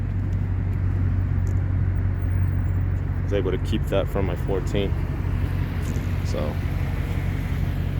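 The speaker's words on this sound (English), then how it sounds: "Got the true dual exhaust on it as well." A 2021 Toyota Tundra CrewMax with a Flowmaster true dual exhaust idles with a constant deep rumble throughout, while someone talks over it partway through.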